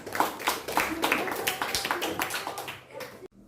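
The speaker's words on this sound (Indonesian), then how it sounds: "tepuk tangan untuk kelompok 4" A small group in a classroom claps in a quick, uneven rhythm for a few seconds, close by and fairly loud, ending abruptly.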